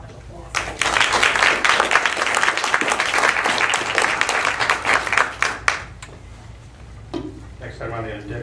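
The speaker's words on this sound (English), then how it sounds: "I think they deserve another big round of applause" A board meeting audience gives a sustained round of applause lasting several seconds. It tapers off and is followed by a voice speaking.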